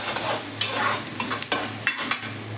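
Chopped onions fry in a pan for homemade chhole, a low steady sizzle broken by a few sharp scraping stirs of the spoon against the pan.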